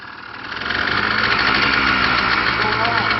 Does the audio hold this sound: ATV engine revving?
yes